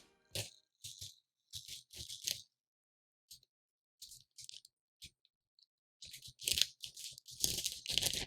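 Packaging from an Apple Mac Mini M1 box is torn and peeled away in close crinkly rattles and crackles, coming in short bursts with silent gaps and growing denser and louder toward the end, with no talking.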